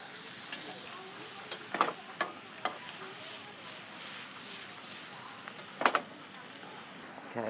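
Pancetta, butter and blanched peas sizzle steadily in a pan, a close bed of frying hiss broken by several sharp clicks and taps of stirring.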